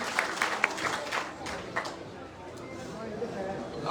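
Scattered applause welcoming a speaker at a Lok Sabha election office opening in Bhadra, a few claps at first that thin into a loose patter across the room, moderately near, with background murmur.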